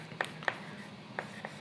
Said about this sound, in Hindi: तो हम यहां पर लिखेंगे